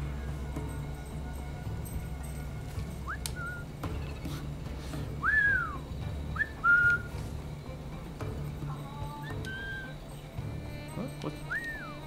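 Several short rising and falling whistles in Assassin's Creed IV: Black Flag, one at a time with pauses between, over a low steady game background hum.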